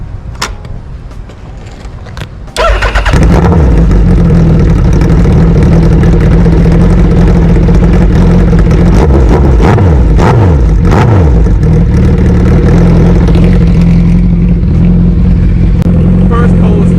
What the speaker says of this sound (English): So let me go ahead and give you guys a cold start.